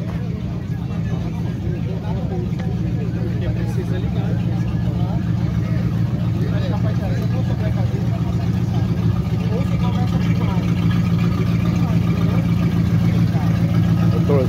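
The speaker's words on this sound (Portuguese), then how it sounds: "Motorzão 8 cilindros aí, ó." A classic car's V8 engine runs at a steady, rumbling idle at a car show in Brasília, with people talking over it in the background.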